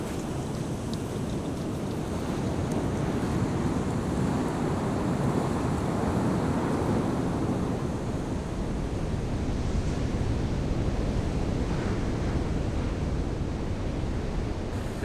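Rough sea surf pounding a beach on Réunion Island, a steady, loud roar of breaking waves mixed with wind buffeting the microphone, no voices.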